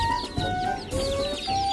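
Laying hens and a rooster on a Thai village farm cluck and call continuously at close range, with overlapping bird calls and steady clucking filling the short stretch, no talk.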